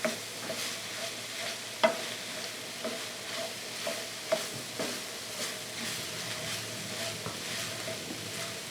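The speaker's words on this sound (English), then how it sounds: "So we'll give it a few good stirs like that." A spatula pushes tofu scramble around a hot pan, soft scraping strokes over a constant sizzle with a few sharper knocks against the pan.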